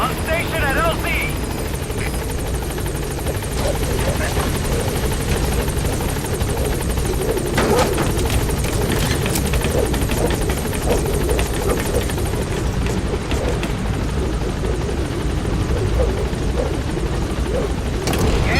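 A helicopter arrives at a landing zone in Metal Gear Solid V, its rotor throb loud and constant throughout, close and unbroken, with radio-style talk faintly beneath.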